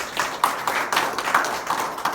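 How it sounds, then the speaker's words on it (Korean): Brief clapping from a small audience at a meeting, a quick scattered patter of hands lasting about two seconds, fairly close and without talk. "박수 한번 해주십시오."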